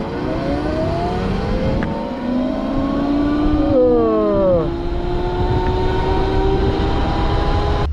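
Horwin CR6 electric motorcycle accelerating at full throttle, a steady loud whine with tones that rise through the run, dip briefly and climb again over continuous wind and road noise.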